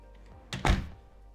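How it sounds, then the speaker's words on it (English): A garage door controlled through a home automation setup closes with a single heavy thunk, a short low thud that fades quickly against a quiet background. "Garage door close."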